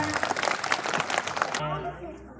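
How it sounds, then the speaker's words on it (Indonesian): Students at a Monday school flag ceremony clap together in a thick, steady burst that cuts off sharply partway through, leaving quieter room sound. "Oke, tepuk tangan."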